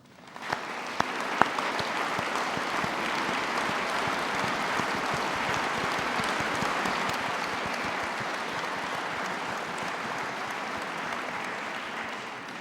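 An audience under the Coupole at the Académie's solemn opening session applauds. A few sharp early claps swell into sustained, even applause that continues at a moderate distance until the end.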